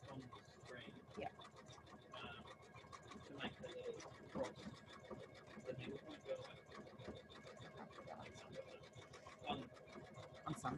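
A Janome embroidery machine stitches steadily at close range, its rapid needle rattle running continuously while a person talks over it throughout.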